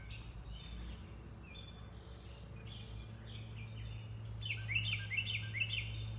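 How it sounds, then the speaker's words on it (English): A small bird chirps outdoors, faint scattered tweets early on that grow into a brighter burst of rapid chirping near the end over a low steady hum. "our bird's back."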